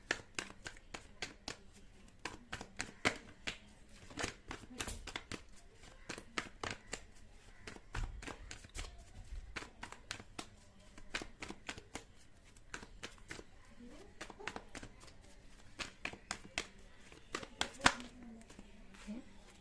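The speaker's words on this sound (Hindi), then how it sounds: "जब तक मैं कार्ड निकालती हूँ, आप अपने पार्टनर का चेहरा विजुअलाइज कर सकते हैं" Tarot cards are shuffled and drawn, giving faint, quick papery flicks and taps in irregular clusters, with a person speaking softly in between.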